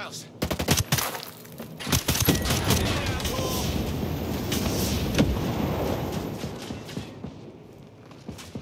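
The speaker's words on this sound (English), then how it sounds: "Shoot those assholes! Shoot them!" Rapid assault-rifle bursts and overlapping automatic gunfire crackle in Ghost Recon Breakpoint, loud and near, with dense firefight noise running throughout while voices shout over it.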